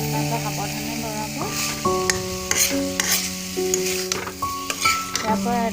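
Cut potatoes with spices sizzle and fry in a wok on a gas stove for an Assamese egg curry, stirred with a utensil that clinks against the pan; loud, steady frying runs throughout under a faint melodic background.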